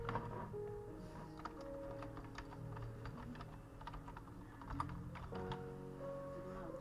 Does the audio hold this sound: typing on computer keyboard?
yes